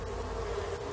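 Bees in the video game Raft buzz in a steady, close, continuous drone, with no voices over it.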